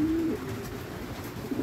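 A racing pigeon gives a short, low coo near the start, then softer cooing follows at a moderate distance over a quiet outdoor background.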